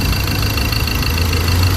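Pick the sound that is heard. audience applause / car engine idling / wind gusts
car engine idling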